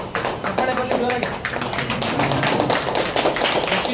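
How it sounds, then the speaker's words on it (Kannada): A crowd claps loudly and steadily at a lucky-draw prize event where a gold necklace winner is announced, a dense, continuous wash of applause filling the whole stretch. "ಚಪ್ಪಾಳೆ ಬರಲಿ ಜೋರಾಗಿ."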